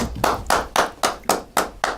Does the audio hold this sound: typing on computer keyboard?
no